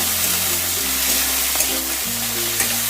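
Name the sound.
onions and tomatoes frying in a pan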